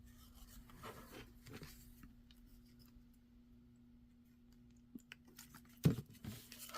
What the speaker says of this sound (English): But now I can get this scraped off of this piece.